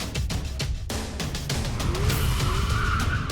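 A Lamborghini Huracán LP610-4 Spyder, rear-wheel drive with traction control off, slides sideways with a steady engine drone and faint tire squeal building through the second half, loud and fairly close.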